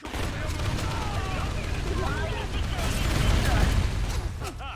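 Gunfire in the shooter game Hounds, dense rattling bursts and mechanical clatter under a continuous busy battle din with bursts of voices.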